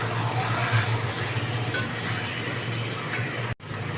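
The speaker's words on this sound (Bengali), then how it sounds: "সাইডে তুমি আবার কষাতে থাকবে। ভালো করে কষানো যতক্ষণ না হবে কষিয়ে নেবে।" Chicken pieces being stir-fried (kosha) in a pan for chicken curry, a soft continuous sizzle with faint stirring scrapes, quiet and steady, ending in a brief cut.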